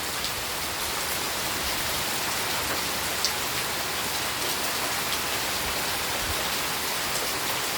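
A dense, steady downpour of heavy midday rain hisses evenly and nearby, unbroken and without speech for the whole stretch.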